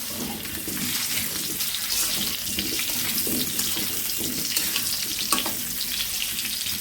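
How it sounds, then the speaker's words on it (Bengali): Potatoes frying in oil give a steady, close sizzle throughout, with faint stirring and kitchen clatter and no talk. "ভালো করে লাল লাল করে আলুটা ভেজে নেব"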